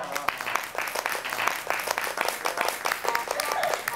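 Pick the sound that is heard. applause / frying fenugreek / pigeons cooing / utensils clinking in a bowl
applause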